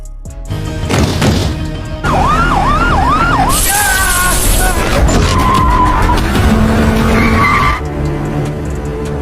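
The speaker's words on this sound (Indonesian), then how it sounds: "mobil yang mereka tumpangi pun akhirnya mengalami kecelakaan" Tires screech as a car skids and crashes in an action film chase, with police sirens wailing and warbling loudly throughout amid dense, roaring engine and impact noise.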